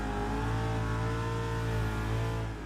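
A drift car's engine holds loud, steady high revs on throttle through a drift entry, a continuous buzzing drone with no break.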